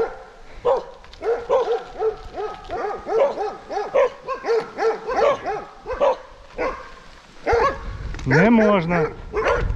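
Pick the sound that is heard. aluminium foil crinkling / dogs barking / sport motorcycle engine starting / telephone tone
dogs barking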